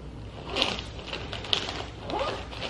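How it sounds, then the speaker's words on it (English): A zipper is pulled along a student backpack holding radiology tech supplies, giving a couple of quick, rasping zips close by over faint room noise, with no talk. "All right, so I'm gonna put these in here and zipper up."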